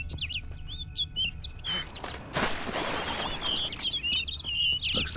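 A bird takes flight in The Witcher 3: Wild Hunt, Blood and Wine: a burst of flapping wings in the middle, with bright chirps and tweets scattered before and after over a low ambient hum.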